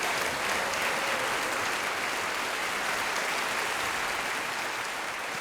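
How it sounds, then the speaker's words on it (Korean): Steady, dense applause from a crowd at a March 1st centennial history rally, honoring a children's drum performance, loud and sustained throughout without talk. "다시 한번 박수 부탁드립니다."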